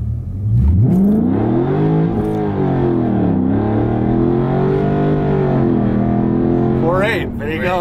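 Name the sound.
Dodge Scat Pack car launching 0-60 with wheelspin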